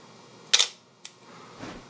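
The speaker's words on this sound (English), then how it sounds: "even the smaller camera, like a 35mm SLR, is going to have quite a bit of shutter noise, as you can hear." A 35mm SLR camera shutter fires once with a sharp, loud mechanical snap, then gives a brief fainter click about half a second later and a soft rustle after it, close up in a quiet room.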